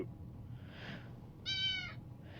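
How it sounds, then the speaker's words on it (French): A single short cat meow from the Minecraft video game, clear and close, between faint soft noises in near quiet. "le son des chats dans Minecraft"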